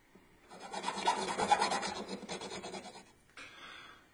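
Close, dry rasping and scraping as a part is screwed into a handmade Iron Man Arc Reactor necklace, a continuous gritty rub for about three seconds, then a short pause and a softer scrape.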